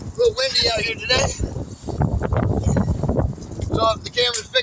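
Wind buffets a camera microphone outdoors during a tire replacement on a 2017 Jeep Renegade, making a low, continuous rumbling roar under a man's speech.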